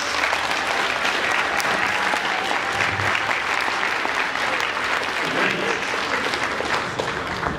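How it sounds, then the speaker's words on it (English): An audience claps steadily and loudly throughout, a dense wash of many hands that holds its strength from start to finish. "let's give a big old round of applause."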